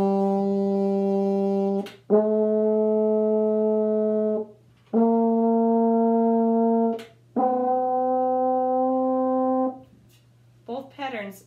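French horn playing a five-note ascending pattern starting on C, each note held about two seconds with brief gaps between them, clear and close, with a short burst of talk at the very end.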